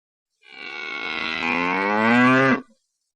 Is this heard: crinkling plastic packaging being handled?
no